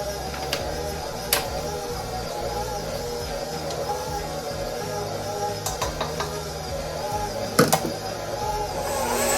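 A stand mixer works pizza dough at a steady mechanical hum, with a continuous motor drone and faint clanks and knocks from the bowl; a louder clatter stands out near the end.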